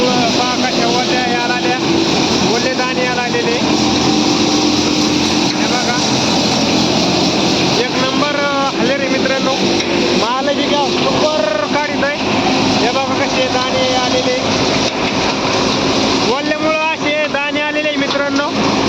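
A tractor-driven thresher works through a pigeon pea harvest outdoors, a steady loud mechanical roar running throughout with wind buffeting, while people talk over it.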